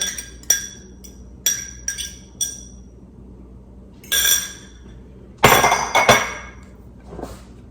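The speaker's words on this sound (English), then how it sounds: "Now I'm going to add that to my mixture." Beaten egg with vanilla is added to peanut butter cookie mixture in a bowl, with sharp separate clinks and taps of a utensil on the bowl and a few short scraping bursts, close and clear, with no talking.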